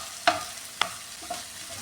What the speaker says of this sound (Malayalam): ഇതെല്ലാം കൂടെ നന്നായിട്ടൊന്ന് മിക്സ് ചെയ്യാമേ.